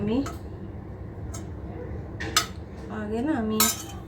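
Meat being served into two bowls, with sharp clinks of cutlery and dishes scattered at irregular intervals against a voice speaking close by.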